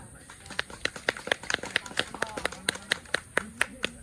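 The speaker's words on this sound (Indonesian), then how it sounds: "beri aplaus untuk kelompok 2" A group in a classroom or workshop session applauds, giving a short burst of light, uneven hand claps that become a sparse, rhythmic clapping, close by, with voices talking underneath.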